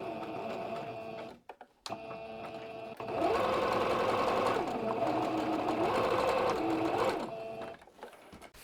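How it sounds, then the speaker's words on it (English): A sewing machine zigzag-stitches a cushion lining closed in quick, steady bursts of rapid mechanical chatter, pausing briefly before a longer continuous run, close and fairly quiet. "I'm going to zigzag stitch this close"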